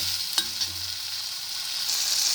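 Tomato and coriander chutney ingredients sizzle steadily in a pan, a continuous hiss broken by a couple of sharp spatula knocks, with no voices.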